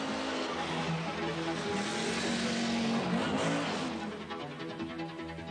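Rally cars race on the snowy stages of the 1982 Swedish Rally, a continuous loud engine drone with rising and falling revs and a hiss of spray, heard at a steady distance.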